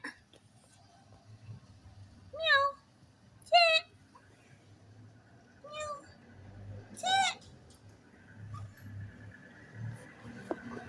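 A stray cat with upright ears meows several times, a few clear calls spaced apart over a quiet indoor background with faint low rumble.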